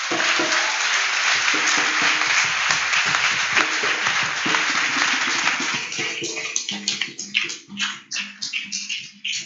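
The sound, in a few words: congregation applauding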